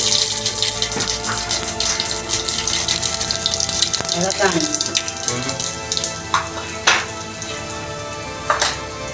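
Mustard seeds and cumin crackle and sizzle in hot oil for tempering cauliflower, a splattering hiss with sharp popping bursts, close and fairly loud, while a voice speaks briefly in the middle.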